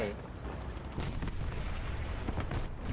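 Tank cannon fire in War Thunder, with the heavy French Char FCM 2C in play: several deep, booming blasts with rumbling tails, one landing near the one-second mark and more following, loud against a low battlefield rumble.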